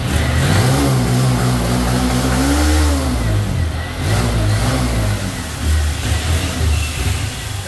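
Honda Titan 160 motorcycle fitted with GRS, camshaft and Athlon performance parts, its engine revving loudly up and down at close range, steady and continuous with no talk over it.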